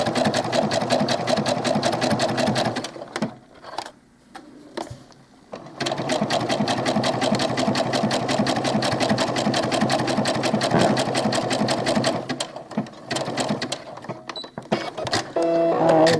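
A sewing machine runs in long close bursts, stitching a seam in doll clothes with a fast, even mechanical whir, briefly stopping and restarting.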